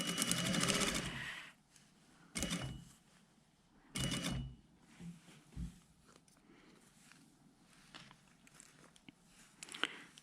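Domestic sewing machine stitching two jacket collar layers together: short bursts of rapid, close needle chatter separated by quiet pauses, with faint handling and fabric rustle in between.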